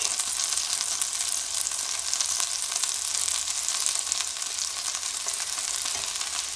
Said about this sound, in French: Et on les fait dorer de tous les côtés.